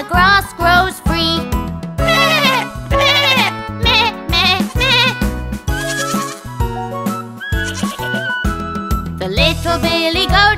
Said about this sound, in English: there were three billy goats